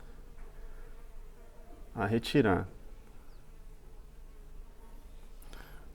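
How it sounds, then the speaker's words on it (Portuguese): Close buzzing of small stingless bees at a feeder swells briefly for about a second, over a quiet background; a voice speaks softly. "E as abelhas já vão se alimentar."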